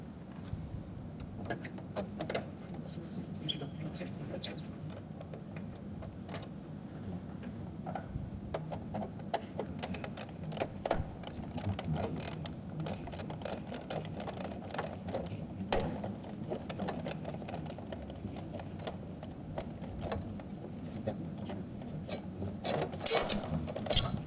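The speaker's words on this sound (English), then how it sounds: "So I'm taking off these screws and setting them here in a safe place." Screws come out of a 2012-2014 Toyota Camry dashboard during a CarPlay kit install: steady, close ratcheting and clicking for the whole stretch, quiet and unbroken by speech.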